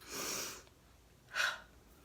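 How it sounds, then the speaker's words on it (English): A person sneezes close by after a run-up of breath: a long breathy inhale, a short pause, then a brief sharp burst, with no talking. "I feel a sneeze coming on."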